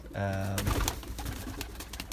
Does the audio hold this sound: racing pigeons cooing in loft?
yes